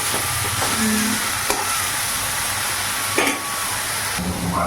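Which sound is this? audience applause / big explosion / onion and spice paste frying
onion and spice paste frying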